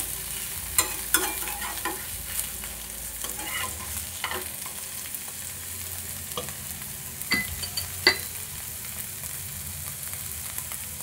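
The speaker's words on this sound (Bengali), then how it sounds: "পনিরগুলো আমি ভেজে নিয়েছি, আর এগুলো তুলে নেব।" Paneer pieces fry in a pan with a steady, even sizzle all the way through, and occasional clinks and scrapes of a utensil moving them about. It is close and moderate in level, with no talking.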